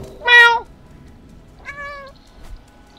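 The cat in the video game Stray meows twice, a loud, clear, drawn-out call followed after a pause by a second, slightly softer meow, close and isolated against a faint background.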